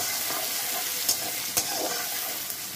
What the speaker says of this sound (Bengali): পেঁয়াজটাকে একটু লাল লাল করে ভেজে নেব।